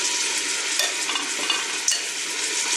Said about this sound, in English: now I am going to sear them first.